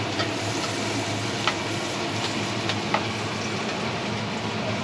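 Onion and butter stirred in a pan, a steady soft sizzle and scraping with a couple of faint clicks of the utensil, close and continuous without talk.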